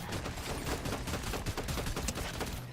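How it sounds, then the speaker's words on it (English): Gunfire in a multiplayer shooter video game, dense sustained bursts of automatic shots forming a continuous loud barrage with no clear gaps, heard without speech. "Up on the hill. Shooting."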